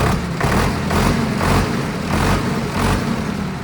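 A tractor engine runs loud and close at a tractor market in Patiala, idling with a steady, rhythmic pulsing thump about every half second.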